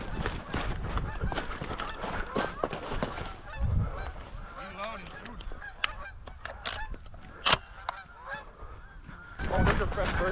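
Geese honk repeatedly during a waterfowl hunt, loud nearby calls in irregular bursts with scattered clicks and knocks, a few low voices in the background.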